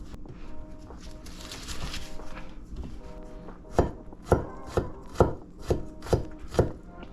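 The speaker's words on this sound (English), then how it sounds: "Chop it up some more." A knife chops pork for carnitas on a board in about seven sharp, evenly spaced strikes, preceded by softer rustling and scraping.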